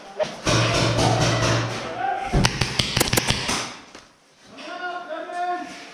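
A paintball strikes a GoPro camera mid-game, a sharp cluster of hard plastic taps and cracks up close, with loud rustling and a voice around it.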